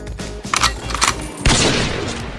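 Rapid bursts of enemy fire in Terraria Calamity, a cluster of sharp shots about half a second in, then a heavier crack and sustained blast near the midpoint that carries on loud to the end.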